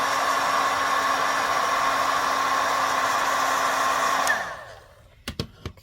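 A heat gun blows a steady, loud, close whirring roar while heat-setting embossing powder on cardstock for a wedding card, then switches off and winds down, followed by a few faint clicks and taps.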